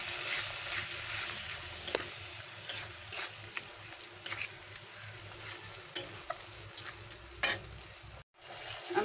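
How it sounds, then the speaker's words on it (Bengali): Sour yogurt being stirred into egg korma in a pan over low heat, a soft steady scraping and sizzle with occasional light taps of the spoon, close and continuous. "দিয়ে আমি টক দইটাকে ভালো করে মিশিয়ে নেব"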